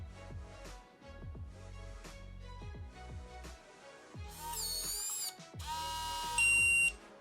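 A eufy C220 smart door lock auto-locks after a ten-second timer, giving a run of rhythmic beeps that close in a louder rising electronic chime and tone.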